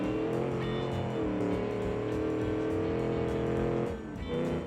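Studebaker engine in a BeamNG Drive racing game, lapping a track with a flying start: a loud, steady engine drone holding throughout, dipping briefly near the end before picking back up.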